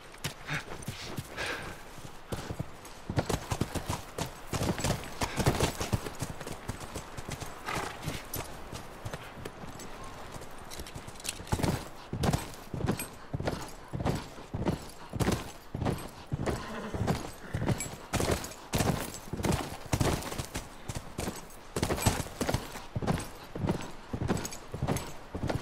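Steady clip-clop of horse hooves on hard ground in The Last of Us, a rhythmic walking pace that continues throughout at moderate volume with a faint voice now and then.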